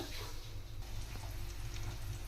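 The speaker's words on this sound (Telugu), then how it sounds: "ఫస్ట్ పెనం బాగా వేడెక్కిన తర్వాత దోశ బ్యాటర్ వేసి చక్కగా ఆ దోశని ఉడకనివ్వండి" Onion dosa batter cooks on a hot griddle pan, giving a faint, steady sizzle and crackle over a low hum, unbroken throughout and with no talk.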